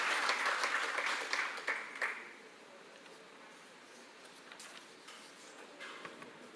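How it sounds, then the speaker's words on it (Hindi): An audience at a celebration in Thailand of the 80th anniversary of Netaji Subhash Chandra Bose's visit bursts into applause that lasts about two seconds, fades, and leaves faint room noise with a few stray claps. "एक जोरदार ताली हो जाए"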